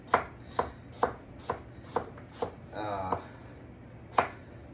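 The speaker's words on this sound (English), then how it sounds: "the more even cuts you have on your dice, on the sides of the potatoes" A knife chops potatoes into dice on a cutting board in sharp, evenly spaced strokes, about nine crisp close taps with a short scraping pause in between.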